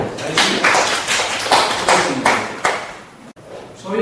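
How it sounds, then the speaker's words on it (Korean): A classroom audience gives a round of applause, a dense, loud patter of many hands clapping together that swells in waves and then stops abruptly. "박수 한번 주세요"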